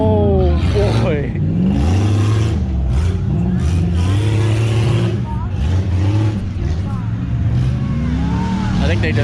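Gutted little Toyotas and other off-road trucks rev hard while slinging mud, engines roaring loud and close with rising and falling pitch. A voice talks over the noise.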